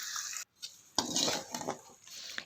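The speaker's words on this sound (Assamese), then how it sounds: "এয়া মই লৰাই আছোঁ" A spoon scrapes and clinks against a pot in uneven strokes as a local chicken curry with skunkvine leaves is stirred, close up, with a short pause partway through.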